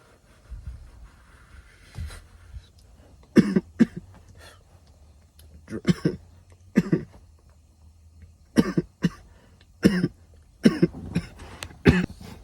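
Repeated harsh coughs in irregular bursts, close and fairly loud, some in quick clusters, with a low hum in the background.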